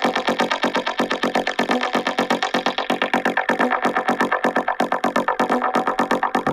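Techno kick drum fed through a Waves H-Delay plugin with modulation pulses in a rapid, dense repeating stream, smeared into a gritty, distorted, echoing wash at steady loudness.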